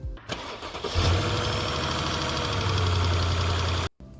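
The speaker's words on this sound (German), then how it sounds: "Irgendwie hat er bei mir angefangen zu klappern, wenn ich den Motor starte, egal ob warm oder kalt" A Mercedes W204 with the M272 engine cranks and catches, then runs with a steady mechanical rattle for several seconds, close and fairly loud, before cutting off abruptly.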